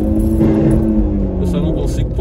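Jeep Renegade engine pulling hard with the pedal floored, a loud, steady low drone with rising harmonic tones throughout, heard close from inside the cabin under a voice talking.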